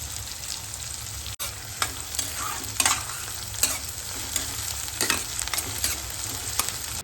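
Onions fry in a pan while being stirred, giving repeated scraping strokes at an uneven rhythm over a steady low sizzle, with no talking.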